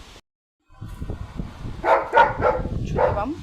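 A dog barks in short, excited bursts at close range as it greets its owner at the door, mixed with whimpering yips and rustling movement.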